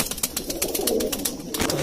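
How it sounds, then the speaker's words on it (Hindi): A kashni pigeon, an Indian high-flying breed kept in a coop, gives soft low coos at close range, mixed with brief fluttering and scratchy movement sounds over about two seconds. "ये जी काशनी कबूतर है"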